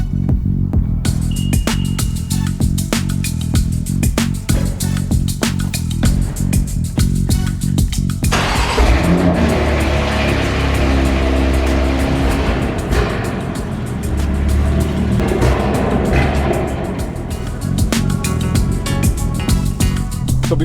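A BMW M4 drives along with a constant, loud engine and road rumble from inside the cabin, punctuated by clicks and knocks, the tone deepening partway through as the car gets underway.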